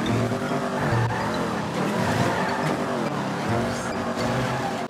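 A car driving on its rear wheels gives a loud, continuous engine roar that rises and falls in pitch, with strained tire noise, close and without speech.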